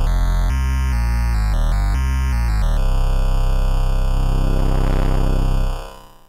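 Loud tones from a Moog Mother-32 synthesizer step through a few pitches, then settle into a buzzy, warbling drone as fast audio-rate modulation roughens the timbre before cutting off.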